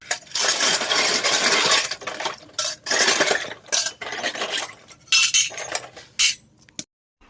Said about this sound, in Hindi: और बर्तन देखिए कब से धुल रहे हैं